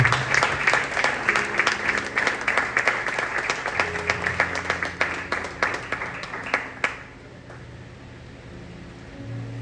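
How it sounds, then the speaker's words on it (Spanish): A church congregation claps together in a lively burst lasting several seconds, then the applause fades out abruptly, leaving quiet room noise. "Un aplauso para el Señor."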